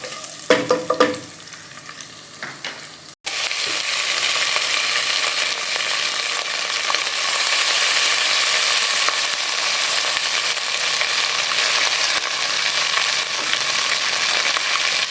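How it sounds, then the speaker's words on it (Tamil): Ven pongal stirred in a pan over medium flame: a few scraping strokes at first, then a steady, dense sizzle that fills the rest with no talking. "மீடியம் ஃப்ளேமில் வச்சு நல்லா கிண்ட வேண்டியதான்."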